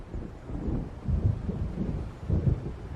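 Low rumbling thunder of an approaching storm in Alan Wake Remastered, rolling in swells with wind and rain noise, fairly quiet and continuous with no talk.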